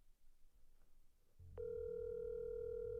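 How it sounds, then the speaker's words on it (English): A phone call rings out unanswered, its steady electronic ringing tone switching on suddenly after faint background noise and continuing loud and unbroken to the end. "She's not answering her phone."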